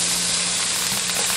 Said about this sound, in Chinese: 稍微给它炒香。